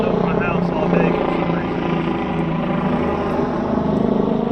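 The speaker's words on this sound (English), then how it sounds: "Helicopter's been flying over my house all day" A helicopter flies over a house, its steady low rotor drone and engine rumble continuous and fairly loud throughout, with a voice talking over it.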